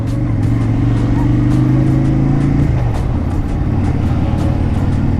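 SM Sport V16 250 cruiser motorcycle engine heard while riding, a loud steady low rumble with wind noise and a pitch that drops as it shifts down, continuous throughout.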